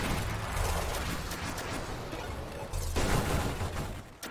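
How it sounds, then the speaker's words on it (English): Railgun explosions from a shield break in the space shooter game Nova Drift: a dense barrage of crackling, booming blasts over about four seconds, with a heavier burst near the end. "Every time my shield breaks, I'm gonna do a big railgun explosion."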